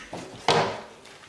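Wooden drawers slide into the body of a handmade DIY puzzle board: a soft scrape, then one firm, close knock as a drawer seats, fading quickly.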